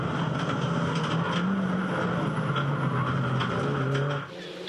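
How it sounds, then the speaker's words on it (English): A Mini Challenge race car brakes hard on a circuit, with a loud, steady engine roar that dips in pitch as the car slows. A sharp drop near the end cuts the sound short. "you could hear there how good these cars brake"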